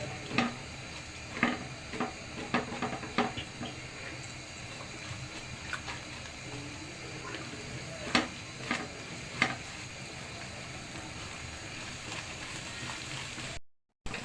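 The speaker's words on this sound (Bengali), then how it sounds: "ডিমটা এখন ভেজে নেব আমি।" An egg fried in a pan for vegetable fried rice gives a soft, steady sizzle, broken by several sharp clinks and scrapes of a utensil against the pan.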